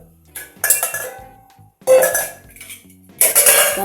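Rasam poured into a pan of hot tempering, heard as three bursts of clattering pot-and-utensil clinks with brief sizzle, separated by short quiet gaps.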